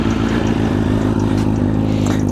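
A BMW S1000RR sport motorcycle with a full-length aftermarket exhaust runs close by, a loud, steady engine note with a fast mechanical patter and small rises in pitch.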